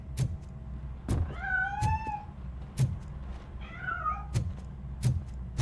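Two drawn-out cat meows stand out over a quiet background, punctuated by several sharp knocking clicks spaced through the clip.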